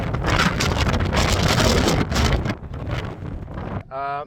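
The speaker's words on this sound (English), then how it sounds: "it is remarkably windy up there" Strong wind at Cape Cornwall roars and buffets the microphone in heavy gusts, easing briefly before a short tonal whine near the end from a DJI Mini 3 Pro drone.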